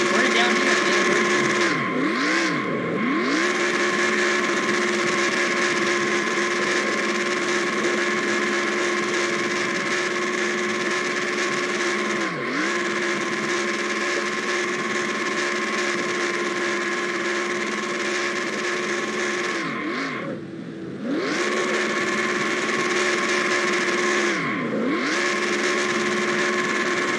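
A stock car in NASCAR Racing 2003 at Atlanta Motor Speedway drones with a steady high-revving engine whine that sweeps and dips a few times, while a commentator talks over it.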